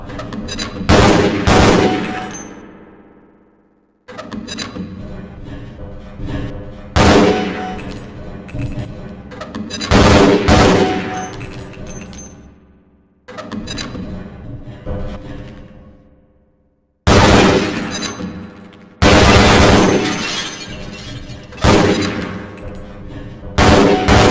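Gunfire and grenade blasts on a Black Mesa training target range in Half-Life: Blue Shift, arriving in loud repeated bursts of shots and booming detonations separated by brief near-silent pauses.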